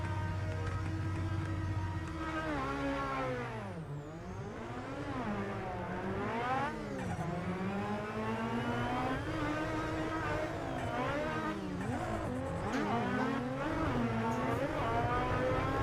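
Drift car engines in a racing simulator video game, revving and wailing continuously with pitch sweeping up and down through tandem drift corners, loud and close with no talking.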